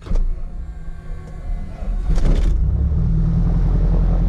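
Twin-engine airplane engine cranking and catching on startup: a low rumbling build that surges louder around two seconds in, then settles into a steady, loud, close idle drone.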